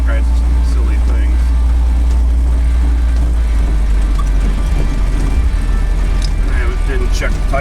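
A 1931 Chevrolet engine runs steadily nearby, a loud continuous low rumble with mechanical clatter and ticking layered on top throughout, no one talking.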